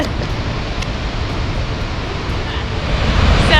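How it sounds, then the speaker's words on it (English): A waterfall in northeastern Iceland roars as a constant, loud rush of water noise, with wind buffeting the microphone. "So behind us is the waterfall of the gods."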